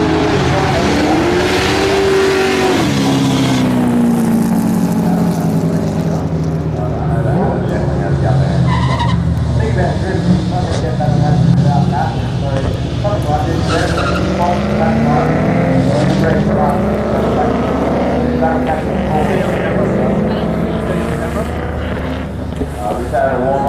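Drift cars battling side by side on a race track, engines revving hard with rising and falling whines and tire squeal, loud and continuous, with an announcer commentating over the noise.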